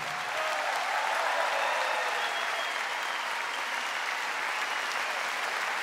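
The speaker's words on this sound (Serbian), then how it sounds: "Aplauzom, pozdravite gospodina Gorana Sultanovića." Audience applause at a live Serbian trumpet and folk music concert, a steady dense wash of clapping from a large crowd that holds loud and even throughout without talk.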